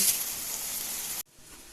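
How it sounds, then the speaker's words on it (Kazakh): Meat seasoned with garlic, black pepper and salt sizzles steadily in a hot pan, loud and close, then cuts off abruptly to a quiet kitchen. "Ал енді менің етім қуырылып жатыр."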